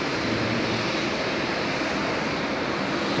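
American Airlines airliner departing Haneda airport in Tokyo, its engines a loud, dense, unbroken roar filling the short stretch, close and steady with no voices.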